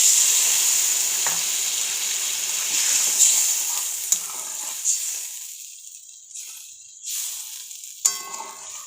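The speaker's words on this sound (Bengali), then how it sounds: "এবারে জল দিয়ে দেব।" Water poured into spice paste frying in a pan for a snakehead fish and taro stew, a loud steady sizzle that gradually fades and quiets, broken by a few sharp metallic clinks of a utensil.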